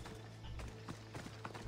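Hooves of a horse in Assassin's Creed Odyssey thud in a quick uneven rhythm, moderately close over steady game background noise.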